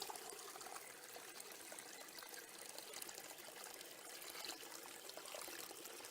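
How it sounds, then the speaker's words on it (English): A little woodland waterfall trickles and splashes steadily, a soft continuous wash of running water close by with no voices. "right where this little waterfall is"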